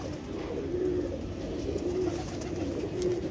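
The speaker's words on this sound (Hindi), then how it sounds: "वाकई कबूतर है माशाल्लाह" Rooftop pigeons coo softly in low, repeated throaty calls, three or four bursts spread over a few seconds against a steady outdoor background, fairly close but not loud.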